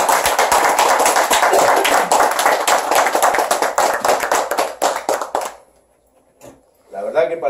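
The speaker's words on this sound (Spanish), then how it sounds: "Un fuerte aplauso" Enthusiastic applause from a crowd, dense clapping for several seconds that thins into scattered claps and fades to near silence, with a voice starting at the end.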